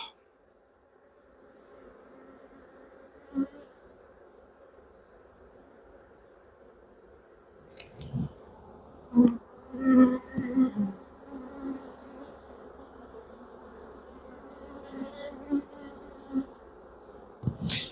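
Honeybees buzz in a low, steady drone around open hives during a rainy-day inspection, with louder bees passing close at times, brief knocks and handling noises, and no talk.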